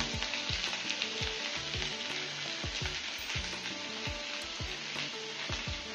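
Peanuts frying in hot oil for mini singara filling, a dense close sizzle with rapid crackles and light pops throughout, no voices.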